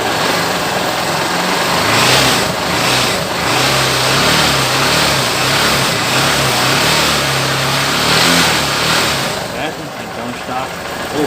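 A 2010 Honda NXR 150 Bros ESD Mix motorcycle engine runs steadily and loud, its throttle blipped in gentle rising and falling revs, with a constant mechanical drone throughout.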